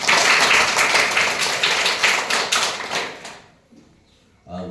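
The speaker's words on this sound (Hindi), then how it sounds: "पहले ताली बजाइए" Children's clapping, dense and fairly loud, runs for about three seconds, thins out and stops, followed by near quiet and a short burst of sound at the very end.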